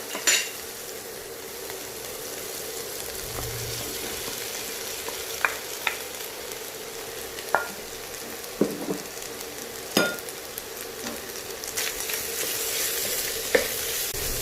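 Chicken, vegetables and egg stir-fried for restaurant-style fried rice, with a steady sizzle and frying hiss throughout and intermittent clinks and scrapes of a spatula against the pan, close and clear with no talking.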